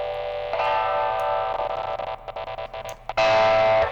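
Heavily distorted black metal guitar tone through the Airwindows PointyGuitar plugin, with sustained saturated chords broken by choppy rhythmic stabs, close and loud, ending on a full ringing chord.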